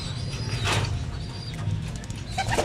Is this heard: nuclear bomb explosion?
no